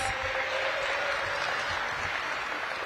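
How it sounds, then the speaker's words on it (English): Audience applause at Raymond Recreation Center in DC, dense steady clapping from a crowd held for about three seconds, fairly close and even throughout. "Give Raven another big round of applause."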